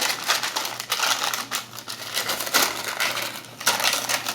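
Parchment paper crinkling and crumpling continuously as a sheet is pressed and fitted into a pie crust for blind baking, a dense close-up rustle with several louder bursts.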